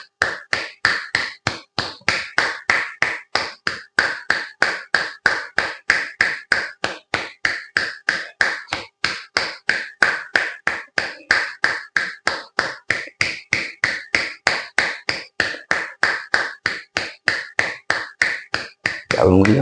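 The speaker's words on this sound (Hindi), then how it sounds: "इस प्रकार से ताली बजानी है।" Steady, evenly paced hand claps sound as palms, fingers and thumbs strike together in a yoga exercise, each one close and crisp, repeating many times in a long unbroken run.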